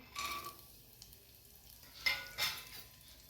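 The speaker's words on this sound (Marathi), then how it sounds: "हे तूप चांगलं गरम झालेलं आहे यामध्येच आता ड्रायफ्रूट घालायचे आहेत आपल्याला काजू बदाम आणि मनुके" Cashews, almonds and raisins hit hot ghee in a pan with a bright sizzling hiss, fading, then two short stirring flare-ups of frying crackle a couple of seconds later.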